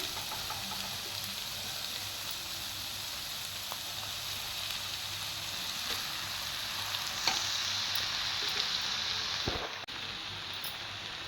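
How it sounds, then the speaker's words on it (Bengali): Boiled pasta being stirred in a pan, giving a steady close sizzle and a soft, continuous scraping hiss with no voices. "আমি ভালো করে নেড়ে নেব।"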